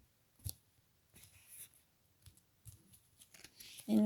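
Oracle cards from a dark-night-of-the-soul deck being cut by hand, giving a few quiet, brief papery snaps and shuffles spaced apart, with a louder thump near the end.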